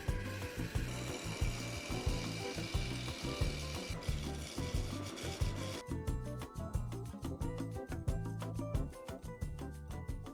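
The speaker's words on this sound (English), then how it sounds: "A massive block of redwood transforms into a one-of-a-kind vase, as precision turning carves flawless curves." A lathe turns a massive block of redwood into a vase, giving a rhythmic, repeating scraping and rubbing with a regular pulse, fairly close and steady throughout.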